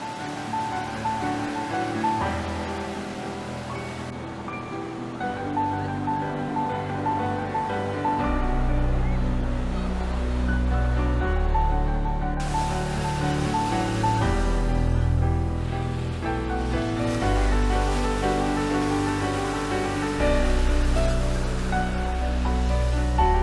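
Ocean surf on Calangute beach in Goa, with a continuous roar of breaking waves that swells and eases in broad surges and stays close and loud throughout.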